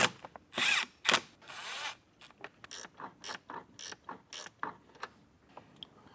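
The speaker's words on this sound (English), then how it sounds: "you need the kind of like a 7mm ratcheting wrench is what I recommend" A 7mm ratcheting wrench clicks as it works screws on a Jeep Wrangler speaker install, quick close bursts of ratcheting interspersed with short irregular metallic clicks and taps.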